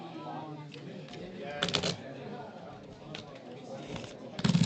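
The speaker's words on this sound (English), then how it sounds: "Wouldn't be right if we didn't shuffle them." Playing cards riffle-shuffled by hand in a casual group setting, a couple of quick rustling bursts under steady background chatter and people talking nearby.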